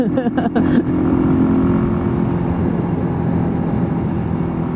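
A Rusi KRY 200 motorcycle engine labours uphill on Kennon Road near Baguio, a steady, strained drone under wind rush from riding, with a few brief knocks at the start.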